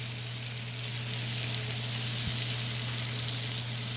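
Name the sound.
pine mushrooms frying in a pan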